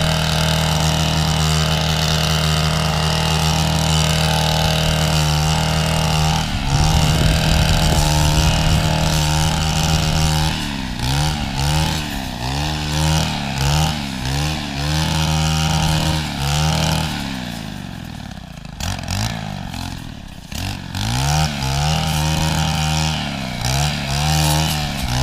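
A Stihl FS brush cutter clears brush on a tropical farm, its small two-stroke engine buzzing loud and near, revving up and down in uneven bursts as it cuts.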